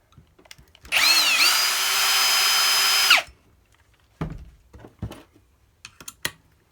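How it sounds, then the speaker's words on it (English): A cordless power drill whirs for about two seconds, spinning an Allen key to back screws out of an RC rock crawler chassis, followed by light clicks and handling taps of small parts. "take it apart, put it in your drill"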